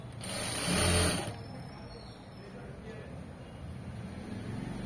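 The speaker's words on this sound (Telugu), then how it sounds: "ఇలా నీట్ గా కుట్టుకుంటూ వెళ్ళిపోవాలి" A sewing machine stitches cloth in one loud burst of just over a second near the start. Quieter room noise follows, and a voice may murmur faintly underneath.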